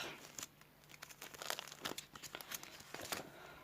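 A4 paper sheets rustling and crinkling as they are handled in a scrapbooking room, with repeated crisp bursts and soft shuffles close up.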